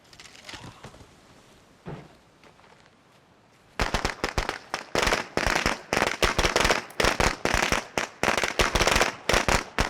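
An explosive thrown during a State of Decay 2 nightmare-difficulty infestation at a clinic, heard as a quiet stretch followed by a sudden loud burst of many sharp, rapid crackling bangs that continue densely to the end.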